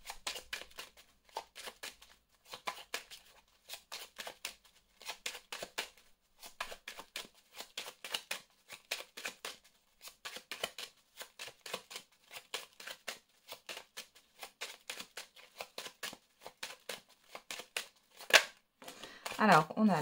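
Belline oracle cards are shuffled by hand in a long series of quick papery riffles and slides, soft and close, with short pauses between bursts and someone speaking French at times.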